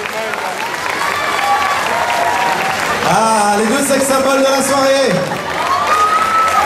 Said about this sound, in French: Allez, on applaudit un peu plus fort.